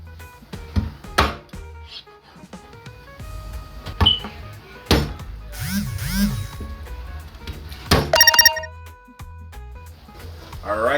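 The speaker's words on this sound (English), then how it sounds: "I'm gonna go ahead and have the turkey neck chopped" Heavy knife blows chop a raw turkey neck into pieces on a board for Jamaican stew peas, a few sharp thuds spaced irregularly among kitchen clatter, with a voice talking quietly in between.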